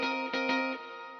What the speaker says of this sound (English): the Space Force from Alexander Pedals is an all-in-one reverb effect